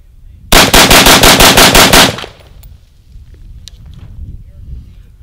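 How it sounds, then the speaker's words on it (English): A Troy Medieval 5.56 rifle fires a loud, rapid string of about a dozen evenly spaced shots at close range, followed by a quieter outdoor tail with faint wind noise. "Now if we shoot really fast, the muzzle stays nice and flat."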